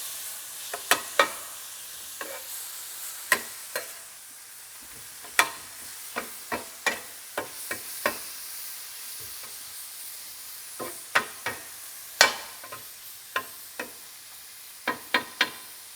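Thinly sliced shallot and poblano pepper frying in a pan, giving a faint, steady sizzle broken by scattered sharp crackles and pops across the whole stretch.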